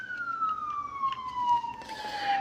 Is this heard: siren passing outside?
yes